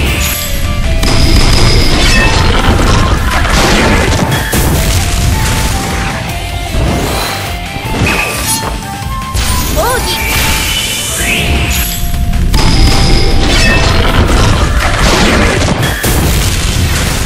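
Video game battle with a firing shot and heavy booming explosions, loud crashing and shattering bursts repeating throughout over dense in-game effects, with brief voice lines.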